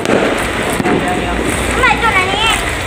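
Fireworks bursting at a midnight New Year 2024 countdown in Nakhon Pathom, Thailand, heard as dense crackling and popping under a noisy crowd with people talking and whistles rising.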